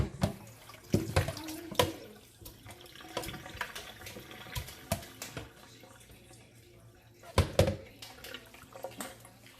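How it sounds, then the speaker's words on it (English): Tap water runs and splashes while raw oxtail is rinsed by hand for stew, with irregular sloshes, knocks and clatters against the sink, fairly close and moderately loud. "Wash all the blood out. But rinse it. I always wash it twice or thrice."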